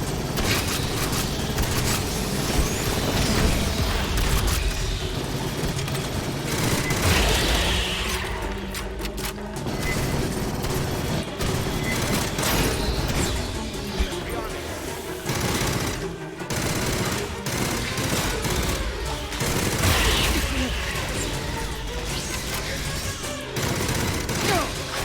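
Rapid gunfire bursts rattle almost nonstop through a dense, loud mix of shooting and combat noise in the video game Aliens: Fireteam Elite.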